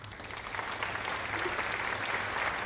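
A short burst of crowd applause, dense and steady clapping from many hands at moderate distance, continuous for a few seconds and then cut off.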